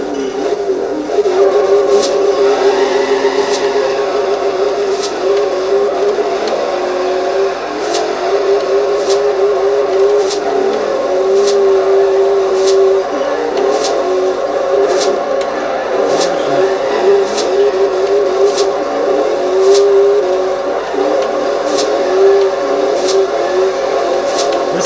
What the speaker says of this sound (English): Now today we are going to drift the Ford Mustang Cobra.